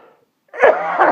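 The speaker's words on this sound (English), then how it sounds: "forgive me for my coughing" A single person gives one short, harsh cough close to the mic, following a brief moment of quiet.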